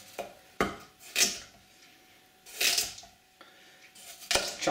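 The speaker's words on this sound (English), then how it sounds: "you use a nice controlled chopping action like that" A knife chopping vegetables knocks against a cutting board in a few separate, uneven chops with quiet pauses between them, close and clear, with no talking.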